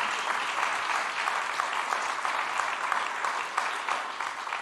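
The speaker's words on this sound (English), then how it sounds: "Can we give them a round of applause?" A church congregation applauds its emeritus pastors at a Sunday service, a thick, sustained burst of many hands clapping together, loud and even from start to finish.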